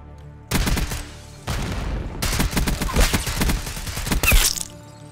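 Assault rifle fire in Black Ops 6 multiplayer, loud sharp bursts of rapid shots starting and stopping in several volleys, with cracks and thuds of impacts between them.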